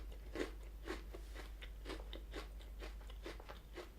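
Someone crunches an Oreo Coconut Thins biscuit with steady, close bites about twice a second, crisp crackly chews under a low steady hum and no talk.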